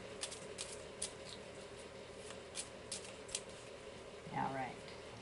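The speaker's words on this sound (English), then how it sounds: "just had to give the cards a little bit more shuffle love" Lenormand cards are shuffled by hand in quiet, repeated soft riffles and taps, close and faint, with no talk over them.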